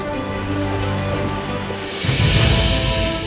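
Monsoon rain falling in India, a continuous dense patter on surfaces, with a low tonal hum underneath that gives way to heavier, louder rain partway through.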